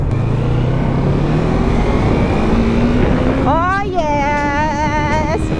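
A 400cc manual motorcycle accelerates on a highway, its engine droning loudly under heavy wind buffeting, pitch climbing steadily before a brief exclamation and a high rising whine near the end.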